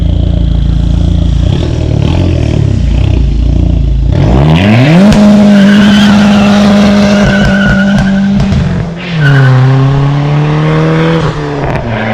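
A turbocharged 2.4 PT Cruiser with a catless downpipe does a burnout, engine roaring loud and steady while tires squeal in a long sustained howl that dips briefly and resumes.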